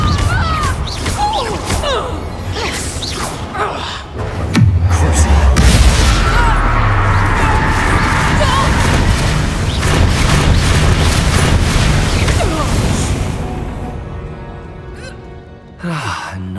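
A Confringo fire spell explodes in the video game Hogwarts Legacy, with a loud, sustained booming blast and crashing debris that rolls on for several seconds amid dense game audio before fading.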